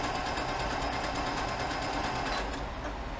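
A sewing machine stitches fabric for heirloom fagoting work, running as a continuous loud, even mechanical whir for the whole stretch, close by with no talking.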